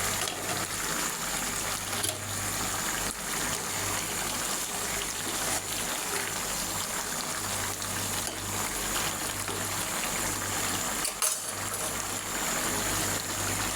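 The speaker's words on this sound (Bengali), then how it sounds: "এটা আমি 15 মিনিট সিদ্ধ করে নেব।" Cow tripe simmering in a covered pot, a steady close bubbling hiss and gurgle with a low hum running throughout, unbroken apart from a brief knock near the end.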